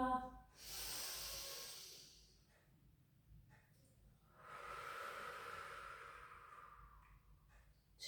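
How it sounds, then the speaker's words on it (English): Deep breathing during a pilates session, one long breath followed after a pause by another, soft and close with an airy hiss and no talk. "take a big breath in. Out breath."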